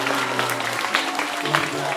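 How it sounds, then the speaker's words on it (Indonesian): An audience claps for a six-year-old boy at an Islamic motivational school event, a short, moderately loud patter of applause with a low hum and some voices underneath. "Tepuk tangan buat Amri"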